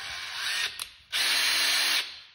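A power drill bores into automotive plastic while a rear license plate is fitted on a Toyota GR86, with two close whirring bursts, a short one and then a longer steady one of about a second.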